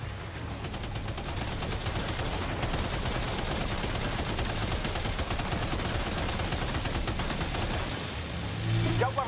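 Sustained gunfire from Death Stranding 2 gameplay, dense rapid bursts and shots rattling continuously at steady loudness, with faint voices underneath.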